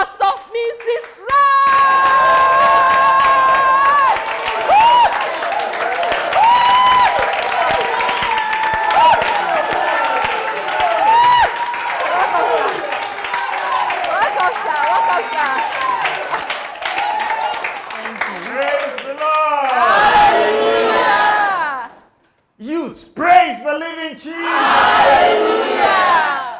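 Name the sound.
crowd applauding and cheering at church youth event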